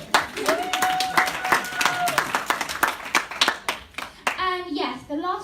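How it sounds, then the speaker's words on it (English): A room of people claps for a woman in a blue t-shirt, the irregular, fairly close claps running under a sustained voice and a child's speech, with sung or spoken tones rising near the end. "Give a round of applause to the lady in the blue t-shirt."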